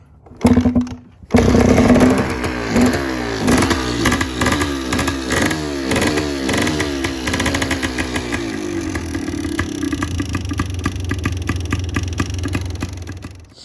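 An old motorcycle kick-started cold: a brief sputter, then the engine catches and runs loud and close with a rough, uneven lumpy beat that gradually smooths into a steadier idle.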